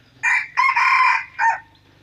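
A rooster crows once, loud and close, its call broken into three bright bursts with short gaps, standing alone without talk.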